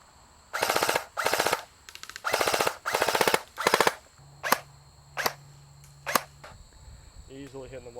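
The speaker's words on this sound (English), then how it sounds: "We are going to go ahead and test shoot the CM47." A G&G CM47 airsoft rifle firing 0.3 gram BBs outdoors: several loud full-auto bursts of rapid clattering shots, followed by a few single spaced shots, close and clear with no talking.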